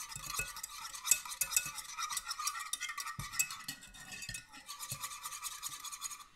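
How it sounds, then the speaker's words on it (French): Agar-agar being stirred into a balsamic vinegar mixture until dissolved, heard as quick scraping and clinking strokes of a utensil against the container, fairly faint and continuous for several seconds with no speech. "On va mélanger tout ça ensemble jusqu'à ce que l'agar-agar soit complètement dissous."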